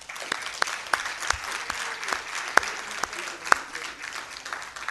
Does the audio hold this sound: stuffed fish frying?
no